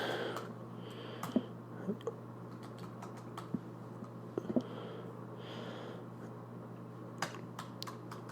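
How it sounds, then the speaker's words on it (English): Computer keyboard typing comes in scattered bursts of light clicks and taps at close range, with a few sniffs, over a steady low background hum. "You hear me typing?"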